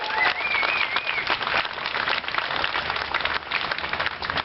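A rally crowd in Seattle applauds steadily and loudly throughout, dense clapping with a few cheers mixed in, filling the whole stretch without pause.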